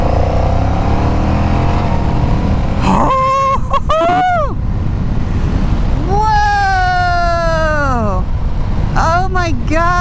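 A Honda Rebel 1100 DCT motorcycle accelerates hard in sport mode, its engine note climbing in pitch through repeated rising sweeps as the automatic gearbox shifts, loud and close throughout.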